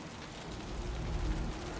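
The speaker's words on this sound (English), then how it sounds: "The rain's getting heavier." Heavy rain in the video game Wuthering Waves, a steady dense wash of downpour with a low rumbling undertone that swells slightly midway, continuous and fairly close, with no voices.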